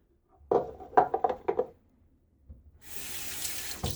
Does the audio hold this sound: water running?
yes